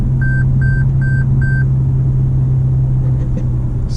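Lexus GS F super-sedan pulling away with a steady low engine rumble that runs throughout, loud and close, while four short electronic chimes sound evenly spaced in the first second and a half.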